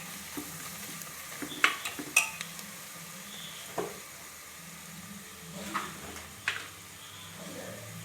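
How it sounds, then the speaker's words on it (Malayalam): Biryani masala mixture sautéed in a pan on a low flame: a faint, quiet frying hiss with occasional spoon scrapes and metallic clinks against the pan, and no one speaking. "ഇതെല്ലാം കൂടി ചേർത്ത് മസാലക്കൂട്ടിൻ്റെ ഒരു പച്ചമണം മാറുന്ന വരെ ഒന്ന് വഴറ്റി കൊടുക്കാം."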